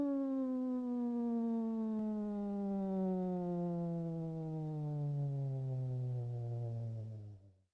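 A single voice glides steadily from a comfortable high pitch down to its lowest note on the word knoll, a smooth, sustained, clearly pitched falling tone, close and alone.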